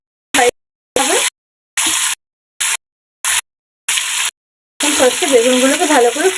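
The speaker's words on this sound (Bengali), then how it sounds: "বেগুনগুলো ভালো করে ফ্রাই করতে হবে একটু লাল লাল হয়ে যাওয়া পর্যন্ত" Eggplant pieces fry in hot oil for a mustard hilsa dish, heard as short, choppy bursts of loud, close sizzling that settle into a continuous crackling sizzle at the end.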